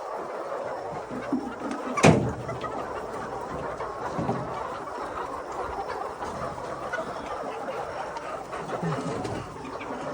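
Hens clucking in a poultry shed on a Pakistani hen farm, many birds chattering in a dense, continuous murmur with scattered nearer clucks and one sharp squawk early on.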